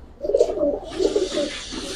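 Pigeons of an old breed coo softly and repeatedly at close range, with a low, throaty burbling in short bursts and no talk.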